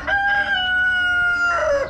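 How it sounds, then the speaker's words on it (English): A single loud rooster crow, drawn out and clear, heard close with no talking. "Do you hear that rooster?"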